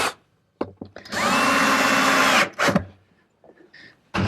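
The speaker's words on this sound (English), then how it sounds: "Now that I know it's not going to move, I can pre-drill for some screws." A power drill whines steadily at high speed for over a second while pre-drilling pilot holes for screws in a wooden cabinet, preceded by a few sharp knocks and followed by a short burst and clatter, close by.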